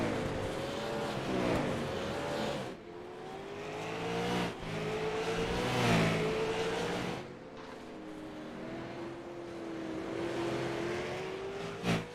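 TCM late model race cars lap Slinger Speedway, engines revving and shifting pitch as they rush past in waves, loud and close, with brief lulls between passes and no voices.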